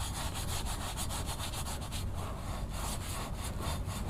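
Abrasive foam polish rubbed by hand onto a car exhaust, a close, steady scrubbing with quick rhythmic back-and-forth strokes and no talking.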